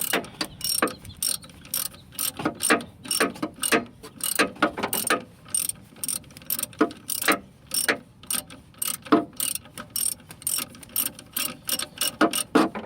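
Socket ratchet with a 15 mm socket and extension loosening the lower alternator bolt on a 1994 Jeep Cherokee XJ 4.0 4WD, giving rapid irregular bursts of close, crisp pawl clicks throughout, with no talk.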